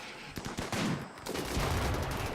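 Gunfire in the video game RimWorld, a rapid, loud burst of overlapping shots and fusillade in a short firefight.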